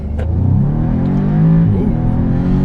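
A 2015 Audi S3 with 300 horsepower accelerates hard away from close by, its engine rising in pitch as it revs up and pulls through the gear, loud and steady with no talk over it.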